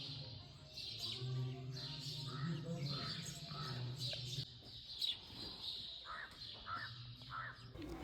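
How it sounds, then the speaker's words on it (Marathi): Sparrows chirp on a village morning in quick, repeated bursts of bright calls at moderate distance, with harsher crow-like caws mixed in and a low steady hum beneath. "या चिवताईंच्या चिवचिवाटाने झाली आमच्या सकाळची सुरुवात."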